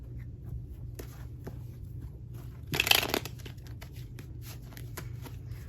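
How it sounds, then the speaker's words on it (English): Tarot cards are given one quick shuffle, a brief crisp riffle burst in the middle of otherwise quiet surroundings with a low steady background hum. "I'll give this a quick shuffle."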